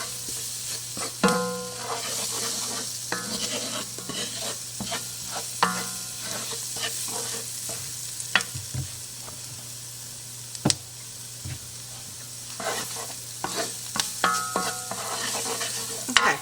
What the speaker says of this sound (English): we're just going to stir this all up and get the flour all mixed in